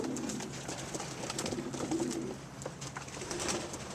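Young racing pigeons flock around a loft, with steady cooing and wing flutters carrying throughout, close and continuous against an outdoor background.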